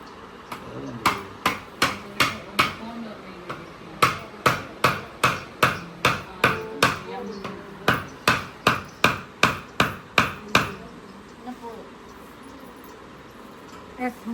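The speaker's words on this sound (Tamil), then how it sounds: "தேங்காய் உடைச்சிட்டீங்களா?" Coconut being broken open during an Aadi festival celebration: a long series of sharp, hard knocks in steady rhythm, loud and close, with voices talking faintly underneath and a few scattered knocks after the main run.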